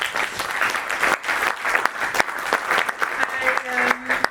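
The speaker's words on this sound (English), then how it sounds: "Warm applause for Sander." Warm applause from a conference audience after a speaker's talk on AI, many hands clapping continuously at moderate loudness, with brief voices and a faint tone near the end.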